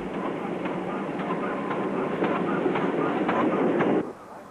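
A GWR steam train hauled by locomotive 7820 Dinmore Manor rolls in on the Cambrian Coast line, its carriages sounding a steady clickety-clack with rhythmic wheel beats over a dense rumble before it cuts off near the end.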